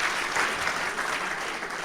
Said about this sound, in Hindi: सभी दिल वाले दादी जी का एक बार सभी ताली बजा करके स्वागत करेंगे।